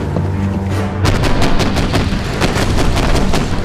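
Artillery in a cartoon booms in a loud, rapid run of blasts over a steady rumbling bed, opening after a brief lull.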